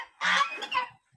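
A single loud, nasal honking call from a duck on a farm in Kalasin province, Thailand, close and alone, lasting under a second.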